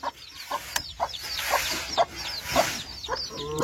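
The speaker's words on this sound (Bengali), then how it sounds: "এই হলো মুরগির বাচ্চা" Young chickens peep in a run of short, high, repeated chirps, close and fairly quiet, with a few soft clucks among them and no talking.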